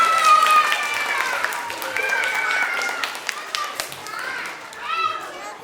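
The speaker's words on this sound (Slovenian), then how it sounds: "En aplavz za nas, premagali smo Volka." An audience of families and children claps at a family puppet theatre show, the applause mixed with lively children's voices and chatter throughout.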